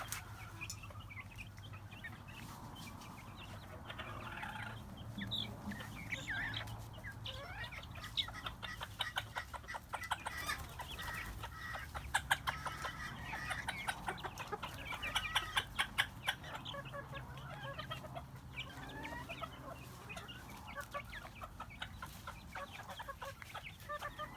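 Several chickens cluck and chatter continuously at moderate distance, with occasional louder squawks rising above a steady farmyard murmur.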